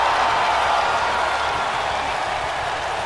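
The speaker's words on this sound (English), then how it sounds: "And this crowd, I can't even hear myself think." A dense, constant roar of a video game wrestling arena crowd in WWE 2K, loud and unbroken, with faint clapping and a commentator's voice buried beneath.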